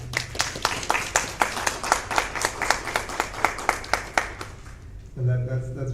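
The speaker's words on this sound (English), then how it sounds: "she deserves a round of applause" Audience applause at a regional CXC awards ceremony, a steady run of claps from a moderate crowd lasting about five seconds before a voice begins speaking.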